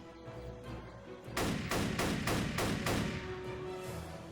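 M1 Garand rifle fire in a video game comes as a quick series of about six sharp shots, each with a short echo, over a steady game background.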